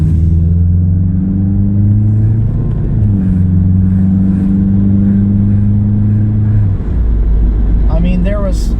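A 1987 Pontiac Fiero with an old carbureted engine running a little rich drives and accelerates, its loud, steady low engine drone filling the cabin throughout, with a pitch change near the end.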